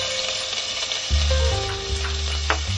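Spring onion hits a small amount of hot oil in a pan and sizzles steadily, a dense close frying hiss with low clatter and stirring noises, no voices.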